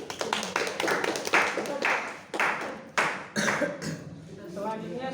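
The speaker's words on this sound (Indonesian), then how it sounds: "Tepuk tangan dulu." A class claps for a student after a microteaching practice presentation, bursts of hand claps coming in uneven waves, close by and fairly loud, with murmured voices underneath.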